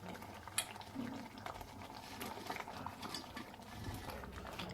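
Paneer masala with peas simmering in a covered pot, a soft continuous bubbling and rattling of the lid with occasional light knocks, fairly quiet and steady throughout.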